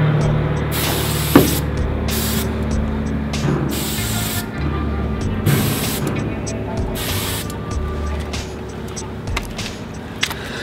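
Several bursts of spray paint hissing from an aerosol can while painting a graffiti letter A, loud and close, each blast lasting about a second with short pauses between.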